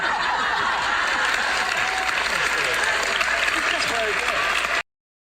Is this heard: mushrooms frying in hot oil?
no